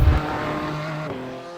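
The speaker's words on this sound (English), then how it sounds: "take a lap around Laguna Seca in a race car" A race car lapping Laguna Seca raceway gives a loud, close engine drone that holds steady, then its pitch shifts and fades slightly near the end.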